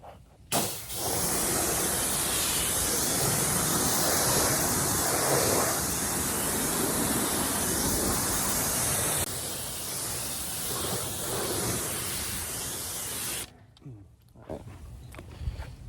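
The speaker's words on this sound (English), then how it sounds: "then we'll rinse it off with the pressure washer" A pressure washer spraying an engine in a loud, steady hiss that runs for most of the clip, then cuts off abruptly near the end.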